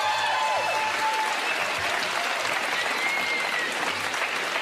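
Comedy show audience applauding steadily and fairly loudly throughout, a dense wash of clapping with faint crowd murmur and no speech over it.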